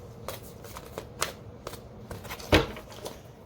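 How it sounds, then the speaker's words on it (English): Tarot cards are shuffled by hand during a rune and tarot reading, heard as soft, repeated riffling flicks and taps at a steady rhythm, close and fairly quiet, with one sharper slap of the deck partway through. "as I was shuffling for you, the 7 of Earth came out."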